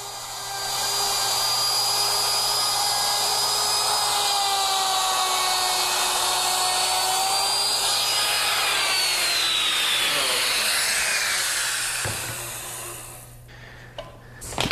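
A handheld wood router cuts joinery while guided against a fence, a loud sustained high whine with a steady tone that slowly drops in pitch before the motor spins down and stops near the end.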